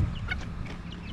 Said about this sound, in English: safe to say I have a pet chicken.